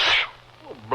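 A single sharp sneeze, close and loud, sounds in an old-time radio drama, followed by a brief voice.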